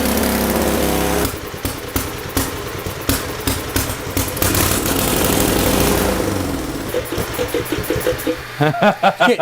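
A small engine fitted with a transparent carburetor fires up after a rope pull and runs loud and close with a steady buzzing roar, then breaks into irregular sputtering pulses near the end.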